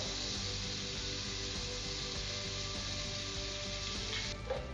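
Butter and avocado oil sizzling in a hot pot for a seafood stew, a steady broadband hiss that holds evenly with a small clink near the end, and no voices.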